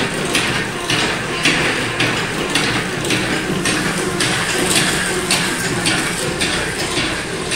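A batasa machine for jaggery sweets runs with a loud, continuous mechanical clatter, regular knocking beats about twice a second over a dense grinding rumble, with no speech.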